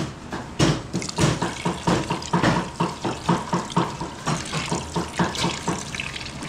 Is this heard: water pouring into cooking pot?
yes